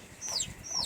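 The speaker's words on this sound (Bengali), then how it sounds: "এই দেখো, এই মুরগি" A chicken gives two quick, high clucking calls in succession, close and fairly quiet, with no talking.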